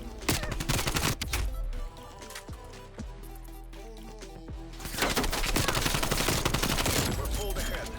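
Automatic rifle fire in a Call of Duty: Cold War multiplayer match, with rapid bursts, a quieter stretch of scattered shots and game sounds, then a sustained loud barrage toward the end.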